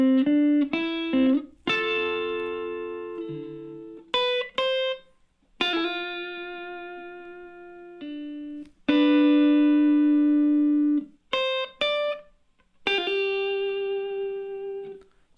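Electric guitar playing the melody of a song with an added double stop underneath for a fuller, sustained organ-like tone; sustained harmonic notes in phrases separated by brief gaps, played alone without talk.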